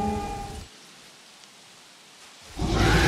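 Rain hisses steadily during a thunderstorm in the video game Jurassic World Evolution, with loud low rumbling at the start and a heavy surge of thunder at the end.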